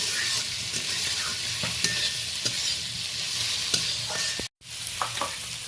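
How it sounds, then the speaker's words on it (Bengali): Prawns frying with onion in a pan for a mushroom and prawn curry, a continuous crackling sizzle broken by repeated scraping stirs, close and steady with no talk, briefly cut off near the end. "চিংড়ি মাছের আলাদা করে ভাজার এই তরকারিতে কোনো প্রয়োজন নেই বন্ধুরা, এমনি পেঁয়াজের সাথে ভালো করে আমি ভেজে নেব"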